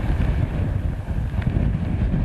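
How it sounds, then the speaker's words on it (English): Hurricane Irma winds roar and buffet a microphone outdoors near Tampa, a loud, constant low rumble with gusty swells and no clear pauses, with no talk. "I can stand in 40-mile-per-hour winds just fine. I'm having a hard time staying put."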